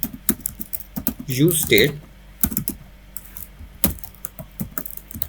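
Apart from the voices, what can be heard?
typing code on a computer keyboard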